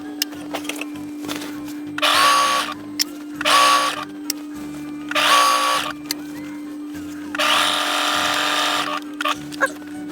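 Sewing machine stitching costume fabric in short separate bursts, four or five whirring runs of a couple of seconds each with quiet pauses and small handling clicks between them, close and fairly loud.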